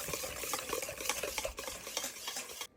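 A whisk beats pumpkin cream cheese brownie batter with chocolate extract in a bowl, a quick run of rhythmic scraping strokes close by.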